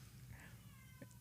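A faint, short, pitiful meow from a cat indoors, plus a brief second chirp, barely rising above a steady low hum.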